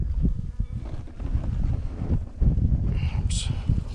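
Gusty wind buffets the microphone outdoors at a beehive setup, producing heavy low rumbling that swells and dips across the clip, with a brief faint higher sound near the end.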